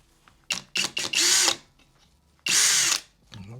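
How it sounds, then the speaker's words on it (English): A power drill bores into a titanium Apple Card, whining in short bursts, then two long sustained runs, loud and close, with brief quiet gaps between. "We're about to use a drill on it to see if it will penetrate this card."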